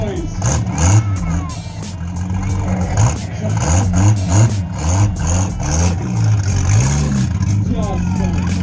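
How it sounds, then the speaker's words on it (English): A 1926 Delahaye 135 racing car at an outdoor car show, its engine close and loud with repeated revving swells and rising, falling pitch, while people talk nearby. "1926 Delahaye, 135. Listen to that noise."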